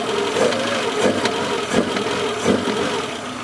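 Original Peugeot 205 Turbo TU 1.4 litre engine idling nearby, a steady mechanical drone with a soft regular pulse about every 0.7 seconds, heard alone with no talk.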